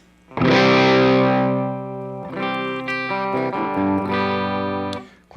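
Electric guitar chords ring out through a DOD Overdrive Preamp 250 pedal, close and loud. One sustained distorted strum fades, followed by several more struck chords with a gritty, driven tone.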